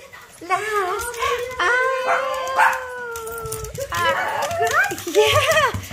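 Dogs greet excitedly with rising, wavering howls and quick high yips, close and loud across several seconds, while people talk and laugh over them.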